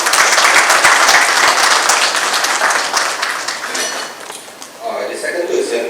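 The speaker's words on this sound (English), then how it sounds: "let's please give her a round of applause" An audience claps loudly, a dense burst of applause that thins and fades toward the end, with faint voices underneath.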